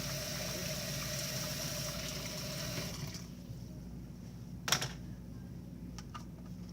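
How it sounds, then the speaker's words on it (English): Cool tap water running into a denture cup, a soft steady trickle that stops about halfway, followed by a brief clink and faint handling noises in a quiet room. "Set that in my denture cup and apply a little bit of cool water in it."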